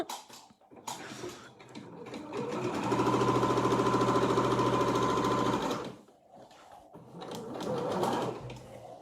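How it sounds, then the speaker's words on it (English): A sewing machine stitching on the spot makes a few short whirring bursts, then one long, steady, rapid mechanical chatter of about three seconds, followed by another brief run; it is close and moderately loud. "I pressed the wrong button, so it's doing a few stitches on the spot."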